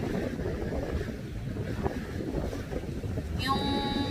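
Strong wind blows steadily at the seaside, a constant roar of gusts against the microphone, with waves faintly underneath and a brief high tone near the end.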